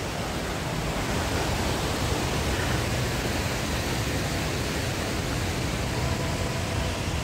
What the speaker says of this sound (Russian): Как хорошо здесь у водопада